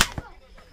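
A slingshot shot fired at a slingshot shooters' gathering in southern Brazil, with a sharp snap at the start and a second quick crack a moment later, then quiet outdoor ambience with faint voices.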